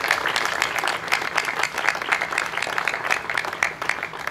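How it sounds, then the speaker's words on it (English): A crowd claps at an outdoor groundbreaking event for a downtown park revitalization, sustained even applause with many overlapping hands, fairly loud and continuous throughout, with no talking over it. "Give them a round of applause for me as well."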